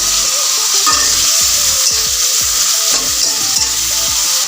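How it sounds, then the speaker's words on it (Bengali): Shrimp frying in oil in a pan give a steady, loud sizzle, close up, with repeated scraping and stirring strokes from a utensil against the pan. "চিংড়ি মাছটা আমি 2 মিনিটের মতো সময় নিয়ে ভেজে নিয়েছি।"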